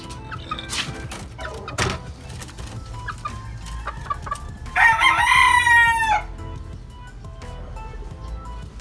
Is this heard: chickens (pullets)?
yes